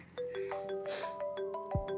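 A phone ringtone plays a repeating electronic melody of bright stepped tones, steady and fairly close, with nothing else over it.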